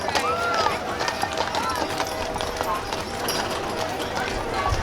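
Draft horses clip-clop along a parade route at a town bicentennial celebration, a steady patter of hoofbeats mixed with crowd noise while someone talks over the public address.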